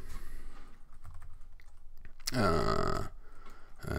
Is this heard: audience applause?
no